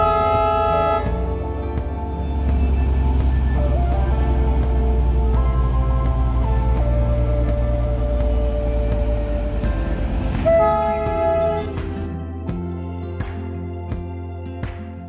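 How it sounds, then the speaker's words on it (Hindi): At a quiet hill station near Darjeeling, a train sounds several long tonal horn blasts over a heavy rumbling engine as it departs, and the rumble fades toward the end. "आखिरकार ट्रेन हॉर्न बजाते हुए चला गया अपनी मंजिल की तरफ"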